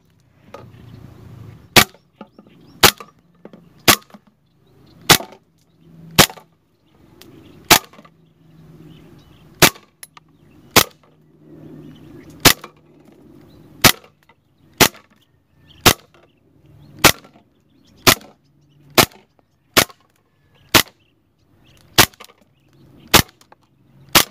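A WE Hi-Capa Dragon 7.1 gas blowback airsoft pistol fires repeatedly at a Spam can, giving sharp, loud cracks about once a second, each shot ringing off the metal, with quiet rustling between shots.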